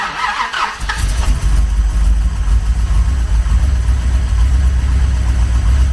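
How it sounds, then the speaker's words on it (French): After a brief clatter, a classic car's V8 fires up close by and settles into a deep, loud, lumpy idle that rumbles steadily. "je suis super content qu'elle tourne enfin cette voiture après 11 ans"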